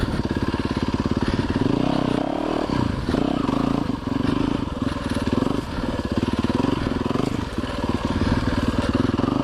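An enduro motorcycle engine labours loud and close over rough ground, its steady harmonic drone surging and dipping with throttle while clatter and scraping from the terrain break in throughout.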